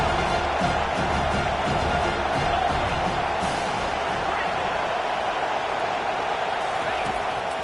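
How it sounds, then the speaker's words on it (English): A football stadium crowd roars for the defense on third down during a Colorado vs Florida game. The dense, sustained wall of crowd noise holds loud and steady throughout, with no clear individual voices. "Decibels rising as the crowd gets behind this defense on third down."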